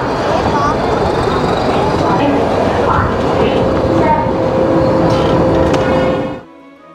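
Nilgiri Mountain Railway toy train pulling into the platform at Ooty, a loud, close rumble of wheels and carriages with faint squeals and tones, then cutting off abruptly near the end.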